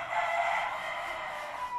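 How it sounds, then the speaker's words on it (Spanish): A rooster crowing in one sustained, fairly loud call heard from a short distance, alone with no talking. "¿Escucharon el gallo?"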